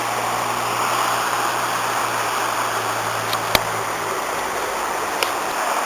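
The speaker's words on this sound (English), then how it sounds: "Here's the same tributary running under the Beddgelert bridge" Tributary stream running beneath the Beddgelert bridge near the Aberglaslyn gorge, a steady broadband rush of flowing water close by, continuous and even throughout with a couple of faint clicks.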